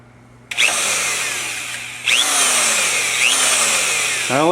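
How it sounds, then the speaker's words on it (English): Power drill with a 3/16 bit bores into a boat's balsa core in three bursts, each spinning up with a rising whine and then grinding steadily, close and loud with no talking. "take a drill, 3/16, which is usually a number 10 size"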